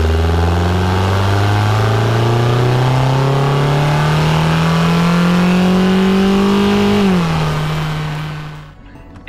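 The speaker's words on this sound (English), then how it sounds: "This is what the intake sounded like before." A car engine with a short ram intake revs up steadily for several seconds, its pitch climbing, then drops back and fades out. Loud and close.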